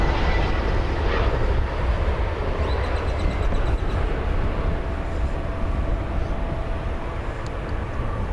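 A Qantas airliner is towed to its parking spot at DFW airport, with a loud, steady broadband engine and apron roar filling the air throughout and no speech.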